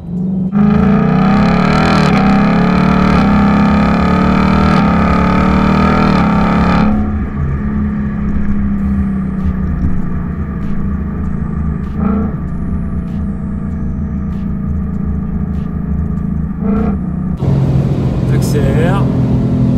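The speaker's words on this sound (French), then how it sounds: "Ça accélère, ça fait du bruit, c'est magnifique." A 2019 Ford Mustang engine revs loudly and close, rising in pitch through a few seconds of acceleration before dropping to a rumbling idle with a couple of short blips of the throttle.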